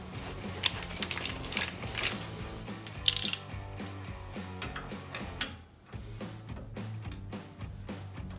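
Repeated ratchet clicks and metallic mechanism sounds as a Jeep Wrangler TJ suspension bolt is tightened to 70 pounds, with a rhythmic close-up clatter and a brief pause before it resumes.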